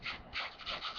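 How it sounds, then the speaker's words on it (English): Dry salt crystals rubbed off dried watercolor paint on paper make a soft, close, continuous scratchy rasp in quick back-and-forth strokes. "we're going to rub off the salt"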